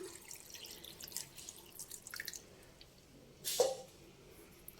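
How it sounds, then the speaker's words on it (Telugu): Water poured into a pressure cooker of toor dal with drumstick, tomato, onion, green chili, turmeric and chili powder; a soft, faint trickle and drip builds to one short splashing pour near the end in a quiet kitchen. "వాటర్ పోసుకొని"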